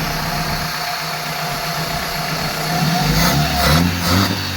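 A vehicle engine, just repaired at a shop, runs steadily at idle with a low continuous hum, then revs up briefly a few times near the end.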